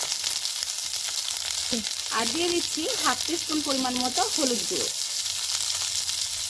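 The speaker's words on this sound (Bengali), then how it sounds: "এই বরবটিগুলো কিছুক্ষণ সময় দিয়ে হালকা ভাজা ভাজা করে নেব, কোনো রকম জল ব্যবহার করব না।" Long beans (borboti) fry dry in a pan with no water, giving a steady close sizzle that runs the whole time while someone talks over it partway through.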